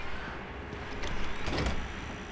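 A door slides open in the video game Batman Arkham Asylum, a rising mechanical whoosh that swells to a brief clunk over a constant game ambience, close and fairly loud.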